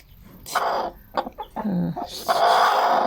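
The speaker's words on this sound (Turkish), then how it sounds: "Korkarım ben bu tavuklardan." A broody hen sitting on eggs clucks and squawks close by in short agitated bursts as the eggs are taken from under her, ending in a longer loud protesting cackle.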